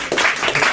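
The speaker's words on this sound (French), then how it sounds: "On vous applaudit, monsieur Refuteau." Audience applause on a French television talk show, a dense steady wash of clapping lasting under a second, loud and close with no distinct voices.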